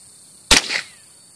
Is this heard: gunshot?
yes